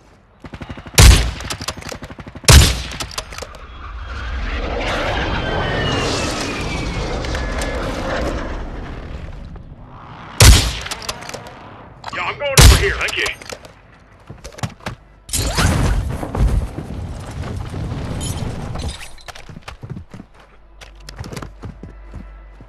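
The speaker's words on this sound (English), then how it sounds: "Yo, got an airstrike over here." Call of Duty Warzone 2 airstrike: several heavy explosions boom in separate bursts over a droning aircraft engine and rumbling battle noise, loud and close, with no voices.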